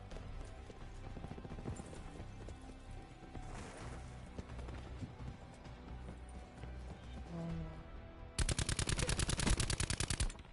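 Video game gunfire: muffled shots and battle noise run beneath faint talk. Near the end comes a loud, rapid automatic burst of evenly spaced shots that lasts about two seconds.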